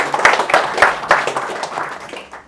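Brief round of applause from a small audience at an aquascaping event: several scattered bursts of clapping, fairly close and moderate in volume, fading out after a couple of seconds.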